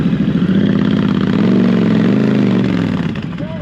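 A 2011 Honda VT1300X Fury motorcycle engine revs hard and close during an attempted burnout, a loud throbbing roar that holds and wavers for a few seconds before easing off.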